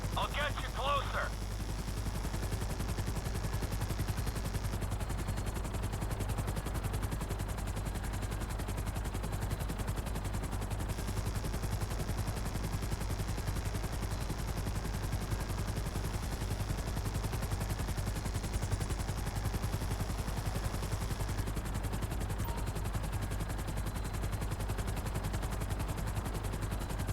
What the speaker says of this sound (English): Hover up, Bob, so I can shoot down into it